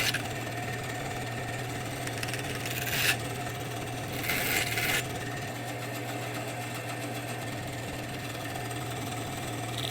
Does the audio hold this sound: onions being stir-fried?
no